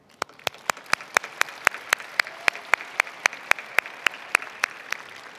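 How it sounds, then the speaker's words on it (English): At a state science and technology fair awards ceremony, clapping comes as a slow, evenly spaced series of about twenty sharp claps, fairly quiet against a faint room background. "So let's give a round of applause for those scholarship donors."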